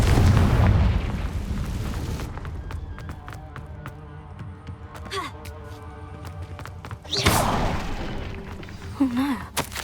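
The Confringo fire spell bursts in a Hogwarts Legacy battle against spiders, with a loud booming blast and a rumbling tail, followed by scattered impacts and another blast, while voices speak over the game sounds.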